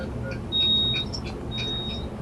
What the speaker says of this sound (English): Dylan has his own fire alarms.